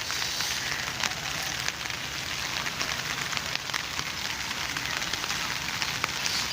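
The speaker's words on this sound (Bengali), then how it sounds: "আস্তে আস্তে বৃষ্টিটা কমে আসছে" Steady rain patters on a rooftop, an even, dense hiss with occasional sharper drips, continuous and fairly close throughout.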